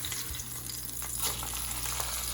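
Meat sizzles and fries in a hot pan just after being flipped, a steady crackling hiss with faint stirring scrapes, close and continuous with no talk.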